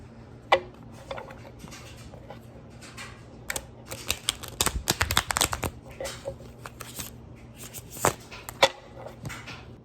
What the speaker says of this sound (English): I'm practicing my card shuffling